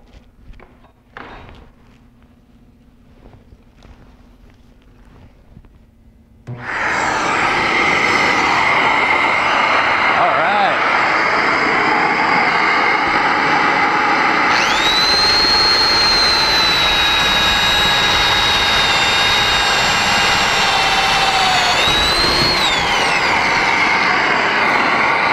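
A HEPA vacuum running through a plunger attachment with holes cut in it starts after a quiet, thumping lead-in and then holds a loud, steady roaring whine, its pitch rising partway through and dipping near the end.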